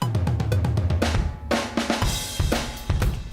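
A fast MIDI drum fill programmed in Cubase rolls across the toms and snare in quick, punchy hits, descending in pitch and ending on a few crashing accents.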